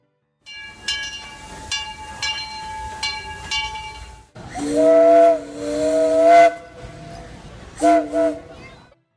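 A Disneyland Railroad steam locomotive sounds its whistle: a few short hooting blasts, then a longer, louder sustained whistle with steam hiss, and a final short blast, heard fairly close.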